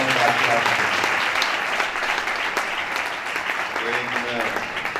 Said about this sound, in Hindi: जोरदार तालियां बजा दें इनके लिए।